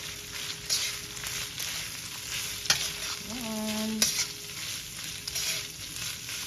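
Bacon, onions and jalapenos being tossed and stirred in a hot pan for sloppy joes, with a steady close sizzle of frying under repeated scraping stirs, and a brief tonal clink partway through.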